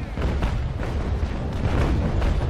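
Cannons fire from a brig under battle sail in the Naval Action Legends naval game: dense, rolling booms and deep rumbling overlap continuously, loud and low, with no clear gaps between shots.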